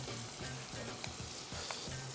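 Chicken giblets, including little kidneys, fry in a pan with a constant close sizzle, while a utensil stirs them in repeated soft scraping strokes.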